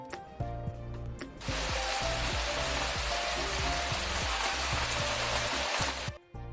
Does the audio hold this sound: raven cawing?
no